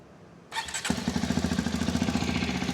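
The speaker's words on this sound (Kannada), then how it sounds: "ಸೊ ಇಂಜಿನ್ ಆನ್ ಮಾಡ್ತೀನಿ ನೋಡಿ" A Hero Xpulse 210 motorcycle with a tapping-noise engine issue starts up nearby after a short quiet moment, then settles into a steady, rhythmic idle.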